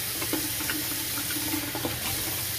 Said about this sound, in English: You're supposed to let the water run first